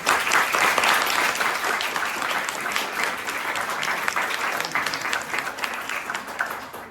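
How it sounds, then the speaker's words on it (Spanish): A strong round of applause from an audience at an academic sociology talk, steady dense clapping that holds for about seven seconds, fairly loud and without speech. "les pediría que les demos un fuerte aplauso"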